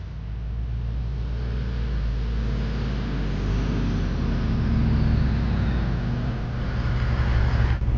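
A car being driven, heard as a steady low road and engine drone that holds evenly throughout, with no voices.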